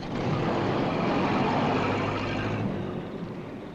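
A car driving away, a broad steady engine and road rumble that holds for a few seconds and then gradually fades.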